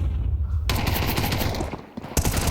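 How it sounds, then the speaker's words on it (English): Rapid gunfire from Counter-Strike 2 in a professional match, a loud dense burst of rattling shots that cuts in after a quiet moment, briefly drops out, then resumes. "Rattling bullets into the position of Exercise"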